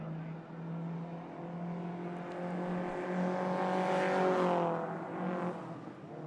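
Pre-1955 Frazer Nash race cars charging around a track at a historic motor racing festival, engines droning and rising in pitch as they accelerate, fairly distant then swelling closer, with no talk.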